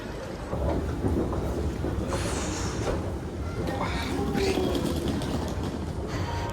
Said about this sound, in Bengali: এই হচ্ছে মেট্রো স্টেশন